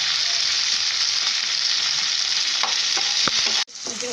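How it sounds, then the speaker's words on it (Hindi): Chopped tomato frying in a pan as a tempering for santula, an Oriya mixed vegetable dish, with a loud, steady, close sizzle and a few stirring clicks before it cuts off abruptly. "इसको हम एक मिनट फ्राई करेंगे, उसके बाद इसको सब्जी पे डालेंगे।"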